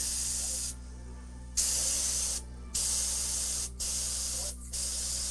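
Airbrush spraying paint onto an oil painting in several bursts of steady hiss, each lasting about a second, with short pauses between them over a constant low hum.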